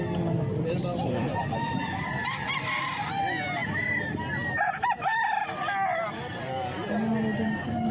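Roosters crow and hens cluck amid a busy hubbub of voices at a market, with chicken calls overlapping throughout.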